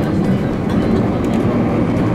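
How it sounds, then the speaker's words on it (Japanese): Sunrise Izumo sleeper train accelerating along the Tokaido Main Line toward Yokohama, a steady, dense low rumble of running rail noise throughout, with no voices. "次の停車駅、横浜に向けてどんどん加速していきます。"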